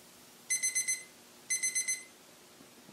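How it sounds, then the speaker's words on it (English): SKLZ workout interval/circuit timer sounding its alarm at the end of an activity period: two clear bursts of four rapid high electronic beeps each, about a second apart, loud and close, with no talking. "As you heard, that was an audible alarm."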